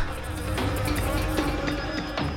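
Dense insect buzzing, as from bees around a hive indoors in a house, holds steady and fairly close throughout with no talk over it.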